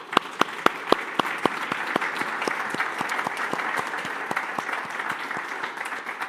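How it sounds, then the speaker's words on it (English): A conference audience applauds its panelists with sustained, even clapping filling the room, a few sharp louder claps standing out near the start before the applause settles into a steady wash. "please join me in applauding our panelists"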